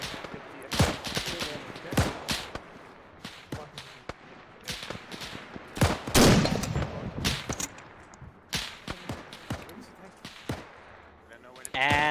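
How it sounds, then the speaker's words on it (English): Sharp gunshots crack repeatedly in a WWII-style shooter on the Raate Road, single loud reports at irregular intervals, some near and some farther off, with voices talking between them. "I just heard more shots back here."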